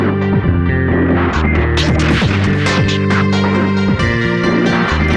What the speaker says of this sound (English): we will cut a small window right through the reinforced concrete, followed by a hole for a structural H-beam.